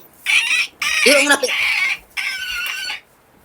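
A person's voice imitates a chicken with three loud, squeaky clucking bursts separated by short pauses.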